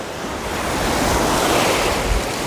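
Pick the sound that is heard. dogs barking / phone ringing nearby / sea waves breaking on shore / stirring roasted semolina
sea waves breaking on shore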